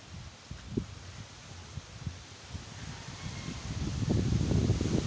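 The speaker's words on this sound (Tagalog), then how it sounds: "Malakas ang hangin." Strong gusty typhoon wind rushes through mango tree leaves, rustling that swells louder toward the end with low rumbling buffets on the microphone.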